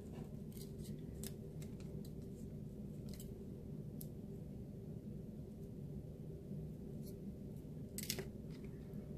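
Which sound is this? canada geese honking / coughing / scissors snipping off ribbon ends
scissors snipping off ribbon ends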